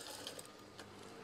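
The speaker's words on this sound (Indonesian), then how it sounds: "Setelah itu lipat dan jahit." Sewing machine stitching folded curtain fabric for a swag curtain, a quiet, steady mechanical whir with a fine rapid needle patter, heard alone.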